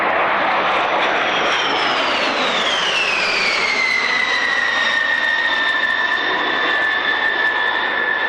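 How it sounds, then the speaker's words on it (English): A B-52 Stratofortress heavy bomber flies over an airshow, its jet engines giving a loud, steady roar with a high whine that sweeps downward as it passes, then holds on as a continuous drone. "the B-52 Stratofortress, a long-range heavy bomber that can perform a variety of missions"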